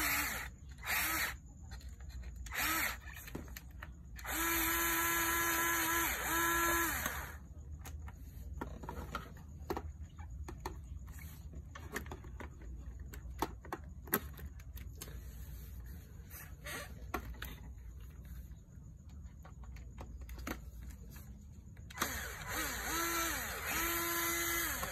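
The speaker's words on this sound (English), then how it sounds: "that's the top bolts removed on the controller" Power drill backing out the top bolts of the controller on a Sur Ron electric bike, several loud whirring bursts separated by quiet pauses and small metallic handling sounds, close up with no talk.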